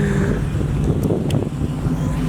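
A Dodge Challenger Hellcat idles outdoors with a steady, deep low rumble under light wind noise, continuous and fairly loud with no revving across the short stretch.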